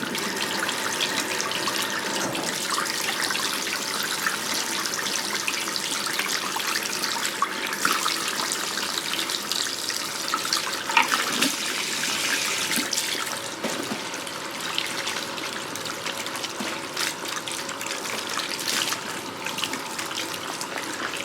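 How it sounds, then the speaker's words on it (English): Tap water runs steadily for about twenty seconds while hair colour is rinsed out of a person's hair, a continuous broadband splash with slight shifts as the flow hits the hair and sink, with no talking. "after 5 minutes I rinse this out."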